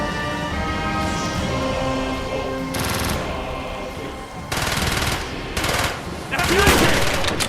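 Gunfire in the Call of Duty Black Ops campaign: sustained automatic bursts and rapid machine-gun volleys, loud and close, rising and falling across the clip over a constant battle din, with voices shouting under the shots.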